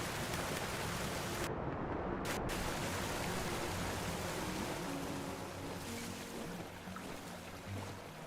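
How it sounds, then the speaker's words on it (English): A large waterfall in the Vintage Story video game, a dense, continuous roar of rushing water, loud and constant, with faint low in-game tones beneath it. "I'll be able to find that waterfall by the sound alone, I hope."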